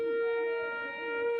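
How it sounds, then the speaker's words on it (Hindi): A siren sounds after a firecracker during a traditional announcement custom in Uch Sharif, Pakistan, giving a steady, sustained tonal wail that fills the whole moment with a slight dip in loudness midway. "ये पटाखा बज गया और उधर से सायरन भी जो ना वो बज गया"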